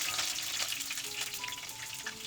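Ginger, fenugreek seeds and curry leaves sizzle and crackle in hot oil in a pan while being stirred, a steady close frying hiss with faint utensil scrapes.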